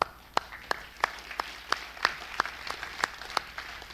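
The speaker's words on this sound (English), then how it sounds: "A round of applause" A conference audience at a 2019 open tech summit closing gives a round of applause, heard as a series of evenly spaced sharp claps over a soft, distant crowd wash, moderately quiet.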